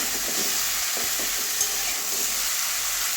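Hilsa fish head with spices sautéing in a pan, a steady close sizzle with soft scraping stirs scattered throughout and no voices.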